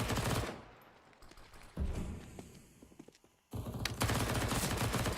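Rifle and pistol fire from an AK and Glocks crackles in a Counter-Strike match, with dense rapid bursts at the start and end and scattered single shots and footsteps in between.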